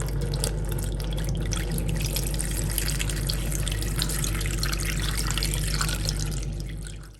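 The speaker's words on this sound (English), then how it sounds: "So I'll just go ahead and add a little bit of water." Water pours steadily into a pot being readied for steaming Ghanaian tubaani (black-eyed bean parcels), a continuous close splashing gush that fades out at the end, with no talk.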